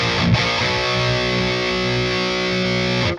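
Heavy distorted electric guitar with a scooped thrash or death metal tone through a cabinet impulse response, holding a sustained chord after a short picked attack, thick and loud throughout, no voices.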